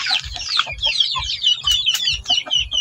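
A large chicken clucks close by in a quick, uneven series of sharp clucks with no talk over it.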